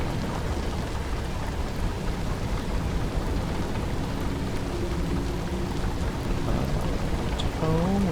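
Thunderstorm spell from the video game Into Evil: steady, dense rain hiss with deep rolling thunder rumble throughout, a few brief tonal game effects near the end, no one talking.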